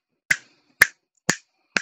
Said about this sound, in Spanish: El chasquido de tus dedos viaja a 32 kilómetros por hora.